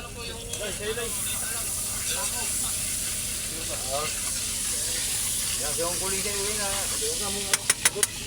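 Adobo cooks in a pan with a steady, loud steamy hiss and sizzle that runs throughout, while people talk over it and a few quick clicks come near the end.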